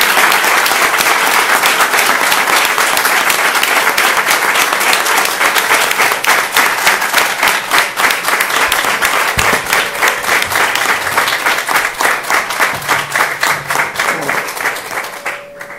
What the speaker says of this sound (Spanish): Vamos a darle un aplauso al jefe.